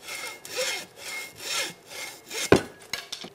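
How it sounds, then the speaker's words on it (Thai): A hacksaw cuts through bamboo near the node while making a Chula kite: four steady back-and-forth rasping strokes, close and clear, then a sharp crack and a few lighter knocks at the end, with no talking. "ผมจะใช้เลื่อยตัดเหล็กนะครับ ตัดที่ไม้ไผ่ใกล้ๆบริเวณของข้อไม"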